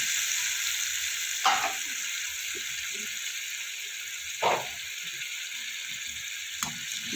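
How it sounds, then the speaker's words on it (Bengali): Fish curry with taro (maan kochu) sautéing in a pan gives a steady soft sizzle, broken by three brief louder stirring scrapes. "ভালো করে আমি কষিয়ে নেব"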